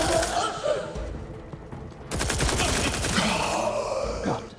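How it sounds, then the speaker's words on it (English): Rapid gunfire in The Outer Worlds 2: a dense burst of shots, a short lull, then a longer sustained volley of sharp, close, repeated reports with mechanical clatter and grunts mixed in. "Someone's shooting at me."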